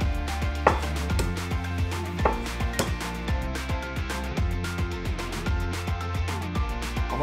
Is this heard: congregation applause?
no